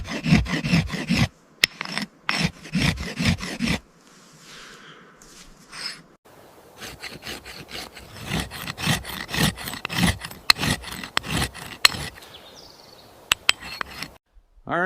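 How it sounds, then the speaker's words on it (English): An axe blade is honed with a flat sharpening stone outdoors, giving bursts of rhythmic rasping strokes that come and go, with short pauses between sets. "Just sharpening up my trusty axe. Quick tip, always use a good flat stone."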